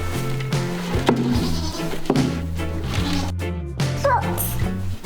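Goats on a farm bleat repeatedly in loud, wavering calls close by, with several overlapping cries and a few light knocks between them.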